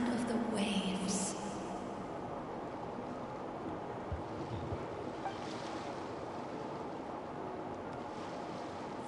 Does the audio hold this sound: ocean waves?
yes